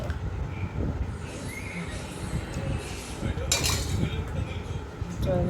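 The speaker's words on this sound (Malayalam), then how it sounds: "നല്ല ഇളക്കി കൊടുക്കണം." Ilayappam batter is stirred in a pan with a utensil, giving close, repeated clinks and scraping knocks in an uneven rhythm, with some talk in the background.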